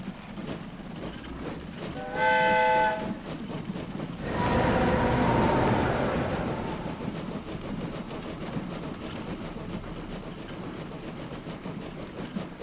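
A train in the video game Train Fever rumbles along steadily with clicking wheels, a short horn blast sounding early, then a louder surge of rolling noise that gradually fades.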